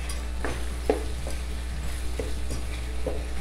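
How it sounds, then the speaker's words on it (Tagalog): Hotdog afritada is stirred in a cooking pan, giving a soft sizzle and bubbling under a low hum, with repeated light scrapes and taps of the spoon against the pan. "Ayan, haluin ulit"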